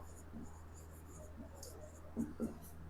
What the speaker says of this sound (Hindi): ठीक है, इसका नाम लिखते हैं A4 पेपर।